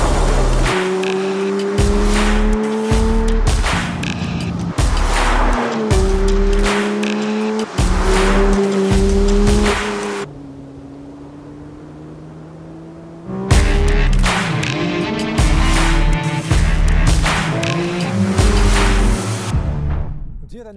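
A 2025 Porsche 911 GT3 with Touring Package (992.2) drives winding country roads, its engine loudly and closely climbing through the gears in repeated rising pulls, pausing briefly, then pulling hard again.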